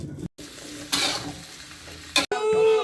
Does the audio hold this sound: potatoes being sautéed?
yes